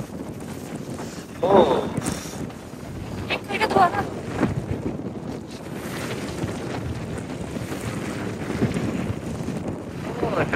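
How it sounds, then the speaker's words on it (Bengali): Strong wind buffets the microphone on Toronto Central Island on a cold day, with gusty rumbling surges and a boat or water sound underneath, and one brief voice. "অনেক বাতাস হচ্ছে, অনেক বাতাস আর অনেক ঠান্ডাও আছে"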